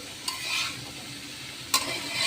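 Dried hilsa fish (shutki) fries quietly in a pan with a soft, steady sizzle, and two sharp utensil clinks ring out against the pan.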